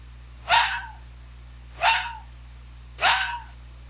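Three sharp, short fox barks from a red fox avatar in Second Life, evenly spaced about a second and a half apart, clear and close over a faint steady hum.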